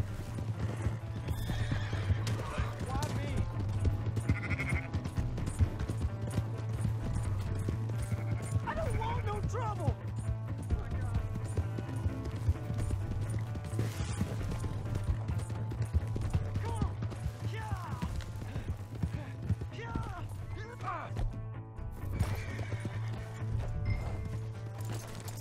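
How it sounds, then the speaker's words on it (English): In Red Dead Redemption 2, horse hooves clip-clop steadily and a horse whinnies amid dogs barking, continuous game music and ambience, with characters talking over the action throughout. "Hey, that's my horse."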